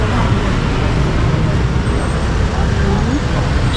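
Dense road traffic in Vietnam forms a steady, loud roar of engines and tires, continuous and close, with no single vehicle standing out.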